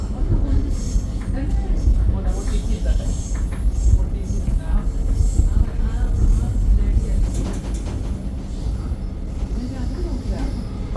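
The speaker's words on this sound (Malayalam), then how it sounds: "നമ്മുടെ അപ്പുറത്തെ സൈഡിൽ കിടന്ന വേറൊരു ട്രെയിൻ പോകുന്നു" Another train runs past on the neighbouring track in Melbourne, a loud, close rumble of wheels with clatter and squealing, heard from inside a train carriage with faint voices underneath.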